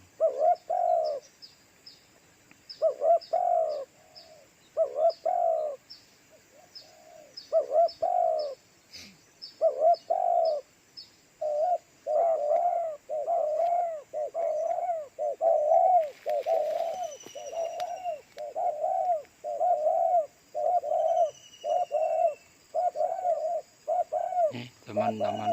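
Turtle doves coo in a long series of regular rhythmic phrases during a midday bird hunt, clear and fairly close against a quiet outdoor background, with a brief knock near the end.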